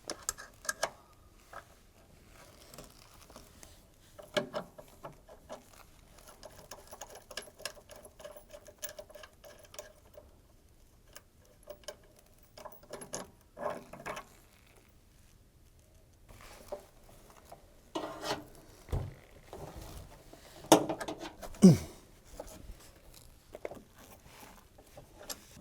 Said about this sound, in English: we need to undo these 6 bolts using our 10mm spanner